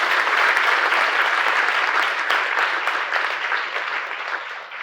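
An audience at an ISKCON Chowpatty gathering applauds a woman: dense, steady clapping from many hands, loud and close, tapering slightly toward the end.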